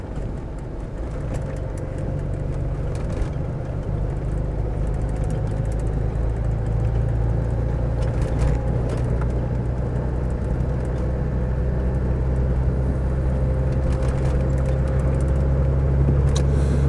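A Land Rover Discovery 300TDi diesel, five-door seven-seater, drives along with a steady low engine drone and road rumble heard from inside the cabin, even and continuous throughout.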